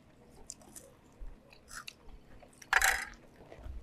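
Crispy fried fish being bitten and chewed at a seaside seafood restaurant in Chanthaburi: soft, close crunching bites, with one louder crackling crunch near the end.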